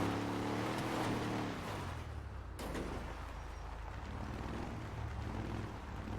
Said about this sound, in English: It sounds different than the other Mustang.